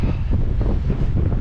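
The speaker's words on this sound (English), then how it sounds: "I'm less happy about being out here though, because it's so windy" Strong wind buffets a microphone outdoors on a hike, a steady, loud roaring rumble with no pauses, dense and close throughout.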